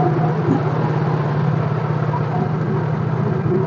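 A Yamaha Mio J motorcycle engine idles steadily and close by, a continuous low, even hum with no revving and no talk over it.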